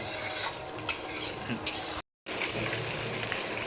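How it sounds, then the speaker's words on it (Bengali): Masala being stirred and sautéed in a pot, with continuous scraping and sizzling and a few sharper utensil knocks, close and fairly loud, broken briefly by a cut partway through. "কষা চলছে, দাদা কষছে এই ঘাড় ঘাড় ঘাড় ঘাড় ঘাড় ঘাড় করে শুধু কষেই যাচ্ছে দাদা"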